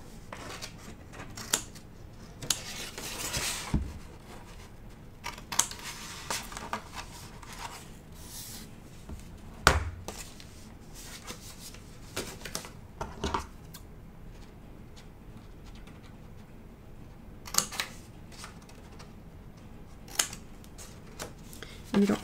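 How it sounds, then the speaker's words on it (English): Scissors snip through folded paper while custom envelopes are cut along their creases, giving short crisp cuts scattered across the stretch, close and fairly quiet, with light handling noise between snips. "So where I'm just cutting along my folded edges there."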